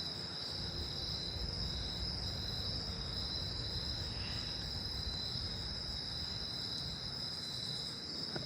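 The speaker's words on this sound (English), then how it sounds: "So I'm at this tree where all the Columbian trigs are." Columbian trig crickets in a tree at night give a dense, steady high trill that runs without a break, loud and close, over a low background hum with no talking.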